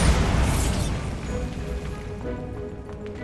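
A Bombarda blast spell from the Hogwarts Legacy video game goes off as a loud, booming burst that starts strong and fades into a lingering rumble over a few seconds.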